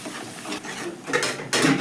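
Chicken curry is stirred in a pan with a spoon, giving close scraping and clinking against the metal and a louder scrape at the end, with no talking.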